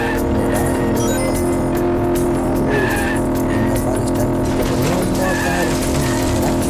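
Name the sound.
monster truck racing with skidding tires in a video game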